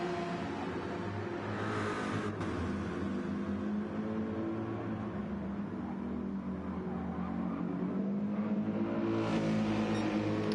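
IMSA race cars circling the Nürburgring, a steady droning engine note holding for several seconds with rising and falling pitch as a car accelerates and passes, heard at moderate distance without talk.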